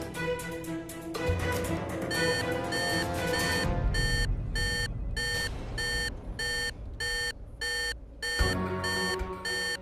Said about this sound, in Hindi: क्या अलार्म क्यों बज रहे?